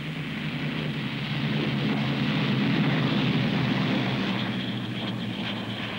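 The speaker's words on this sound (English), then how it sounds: "Bristol bowfighters left over from the last war were pressed back into service to try and keep the peace." Bristol Beaufighter propeller aircraft in flight, a steady, broad engine roar that holds at an even level throughout with no talking.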